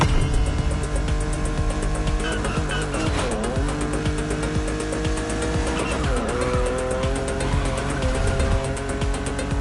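A race car in a video game tears along a winding mountain pass, its engine droning steadily at high revs while tires squeal repeatedly through the bends, loud and continuous.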